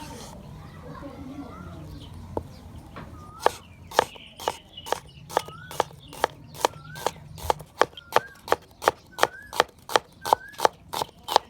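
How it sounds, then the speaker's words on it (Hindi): Onions being chopped with a knife on a board, a steady run of sharp, evenly spaced thuds close by, about two per second, with birds and children faint in the background outdoors in a village. "प्याज की कटाई करेंगे।"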